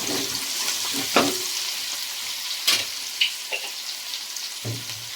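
Chicken leg pieces frying in hot oil with salt for biryani make a steady close sizzle, broken by a few louder stirring scrapes and spatters, with no one speaking.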